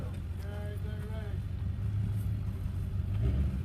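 Lifted Ford Econoline van engine revving for traction in four-wheel drive, a low rumbling drone that builds in loudness, with people talking over it early on.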